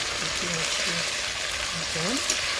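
Fish curry with tomato and onion cooks in a pan on the stove, with steady sizzling and bubbling and a voice talking over it.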